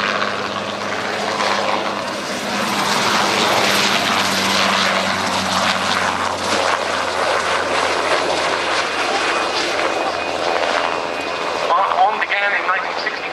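A Westland Wessex HU5 helicopter flies past at Yeovilton, a loud, steady rotor-and-engine roar that holds throughout and swells slightly near the end.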